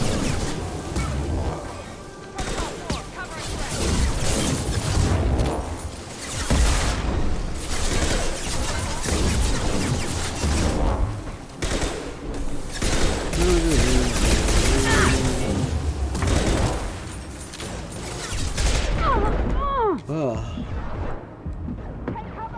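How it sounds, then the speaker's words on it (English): Impact shot gunfire from the video game Mass Effect 2, with repeated booming blasts and crashes in dense, loud combat noise throughout, a voice talking over the fighting. "Taking heavy fire! Firing an impact shot."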